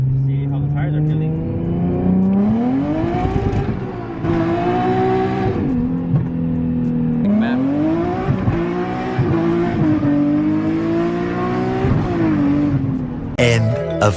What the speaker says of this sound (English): I'm gonna try a little first gear pull, see how the tires are feeling.